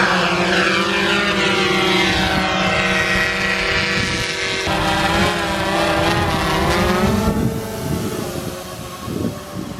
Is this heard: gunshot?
no